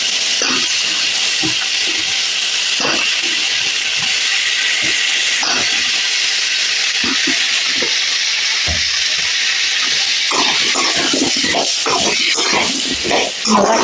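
Chopped vegetables and eggplant sauté in a pan with softened onion and tomato for a Tamil poricha kuzhambu, giving a constant loud hiss and sizzle with scattered stirring knocks throughout.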